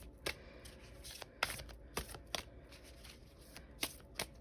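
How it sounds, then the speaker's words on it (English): Oracle cards being shuffled by hand, a series of quick papery riffles and soft slaps at irregular intervals, close and fairly quiet, with no talking. "I'm just going to shuffle the oracle cards"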